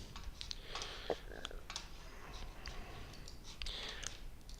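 Quick, light mouse clicks tick out in small irregular clusters at a computer, set up for importing video clips into Adobe Premiere; the clicks are faint and close, with soft background noise and no talking.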